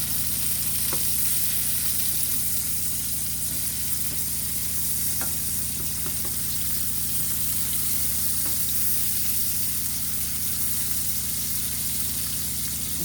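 Salmon frying in butter in a pan, a steady, close sizzle that runs throughout with faint scattered pops and clinks.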